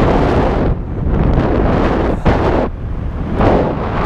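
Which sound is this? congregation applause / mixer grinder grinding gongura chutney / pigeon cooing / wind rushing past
wind rushing past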